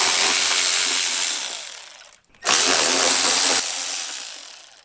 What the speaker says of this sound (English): we're going to use a 10mm socket to remove the 2 bolts securing it in place